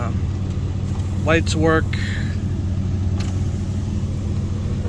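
A Lincoln Mark V's engine idles with a steady low rumble throughout, close and continuous, while someone speaks briefly over it.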